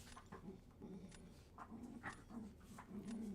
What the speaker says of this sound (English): The dogs are wrestling on the floor next to me.